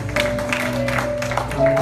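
A church congregation claps for a short burst, a dense and fairly loud spread of hands with some murmuring and singing mixed into the room.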